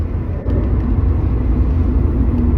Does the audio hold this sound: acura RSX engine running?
yes